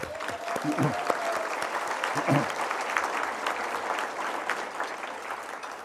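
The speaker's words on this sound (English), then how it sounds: "Let's give a round of applause to the Cascade staff." Audience applause fills a luncheon room at a 20th anniversary celebration, a steady wash of clapping hands that holds at an even level for several seconds without pause.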